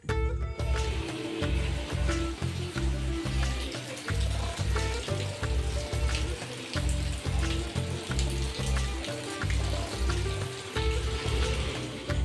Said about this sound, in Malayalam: രാവിലെ തന്നെ നല്ല മഴയാണ് കേട്ടോ